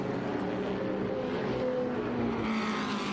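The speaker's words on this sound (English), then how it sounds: "Ferrari 250 Testarossa, Anthony Wang, from Huntington, New York, at the wheel" A 1958 Ferrari 250 Testarossa race car laps the Laguna Seca track during qualifying, its engine a faint distant drone whose pitch sweeps up and down as it passes.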